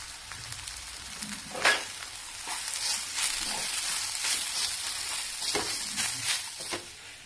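Green chickpea kachori filling with green and red chilli, coriander, garam masala, amchur, salt and ginger stirred in a pan: a steady sizzling frying hiss with occasional soft scraping strokes, close and continuous, no talking.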